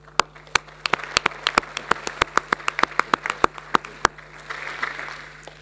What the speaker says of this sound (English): please an applause for Stefan